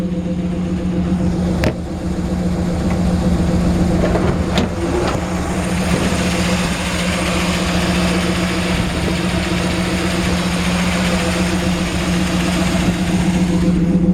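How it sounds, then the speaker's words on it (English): A 1950 Chevrolet 5-window with a cold engine idles steadily while warming up, a low, even exhaust burble with a constant hum that runs loud and close for the whole stretch, broken by a couple of faint clicks. "Great sounding engine, actually. It's still warming up."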